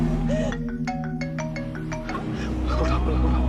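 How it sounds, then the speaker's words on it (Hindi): A phone rings in a scene from a Bollywood film: a short run of repeated electronic ringtone beeps and melodic tones over steady background sound, fading after about two seconds. "फोन बज रहा है किसी का।"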